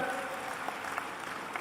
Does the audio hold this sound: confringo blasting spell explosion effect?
no